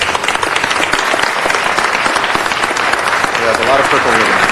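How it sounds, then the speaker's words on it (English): Audience applause at a city council meeting, a dense, steady wash of many hands clapping for several seconds, loud and sustained. "Please give her a round of applause"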